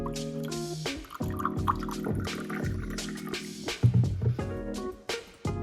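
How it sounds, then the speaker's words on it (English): Water poured into a cup, with a few gentle trickling and dripping splashes at moderate loudness and no one speaking, played over a steady musical background. "Pour the water into the cup."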